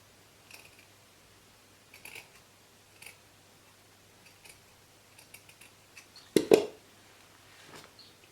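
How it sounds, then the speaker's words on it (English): Scissors snip a yellow circle out of old clothing fabric: quiet, sparse clicks and short cuts spread unevenly, with one louder, fuller snip near the end, in a still room. "So I just want to cut a yellowy circle."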